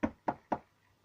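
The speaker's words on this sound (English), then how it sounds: "like train sounds or knocking on the table" Three crisp knocks on a table land in even succession, each sharp and close, ending in quiet.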